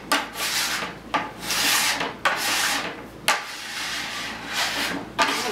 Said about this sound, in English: put your scraper flat on top and give it a good pressure and pull.